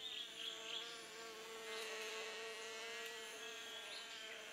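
Many insects buzz steadily around flowers heavy with sweet nectar in an African jungle, a dense, continuous drone of wings close by with no voices.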